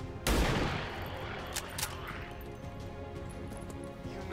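A rifle fires in the video game XCOM 2: one sharp, loud shot early on, followed by a decaying tail and a few faint mechanical clicks.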